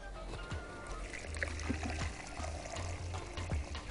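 Boiling water poured into a vinegar pickling solution for quick cucumber pickles, a steady close trickle and splash of liquid with a low background hum, moderately loud and free of talk.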